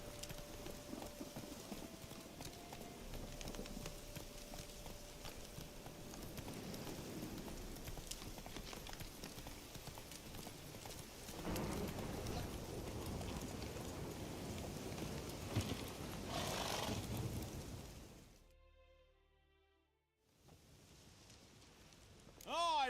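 Roach, the horse in The Witcher 3, gallops with rhythmic hoofbeats under steady rain, a tonal hum early on, then the noise cuts out near the end before a short burst of game sounds.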